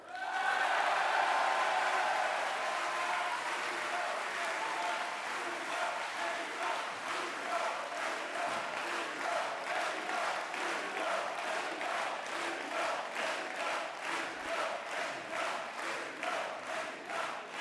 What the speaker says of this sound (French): je vous demande d'applaudir très fort également notre président Bruno Retailleau